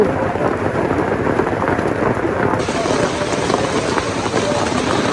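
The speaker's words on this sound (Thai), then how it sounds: "ฝนตก ตกหนักเลย" Heavy rain pours steadily at a temple festival fair in Kengtung, a dense unbroken hiss of drops hitting surfaces, loud and close throughout with no speech.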